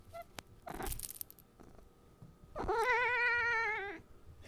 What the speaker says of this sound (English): I gave her a bunch of little tummy scritches while she was meowing.